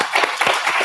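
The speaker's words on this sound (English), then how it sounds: "I think he deserves a round of applause" A short burst of clapping, several hands applauding close by for under a second.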